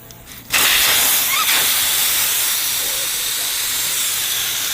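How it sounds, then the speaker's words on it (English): Loud, steady air hiss from a car tire deflating after its valve core is pulled, starting abruptly after a short quiet moment and continuing unbroken to the end, close and dominant. "Let the tire fully deflate."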